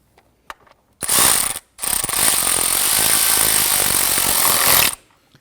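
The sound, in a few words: ratchet tightening 10mm bolt on Nissan Frontier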